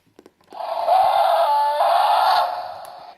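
A muffled electronic toy dinosaur roar or screech plays for about two seconds, loud and buzzy with a wavering tone, after a few faint clicks.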